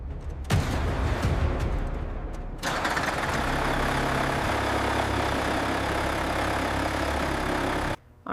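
A Mercedes Titan X24 heavy truck engine idles with a steady, loud, low rumble that starts abruptly and cuts off near the end.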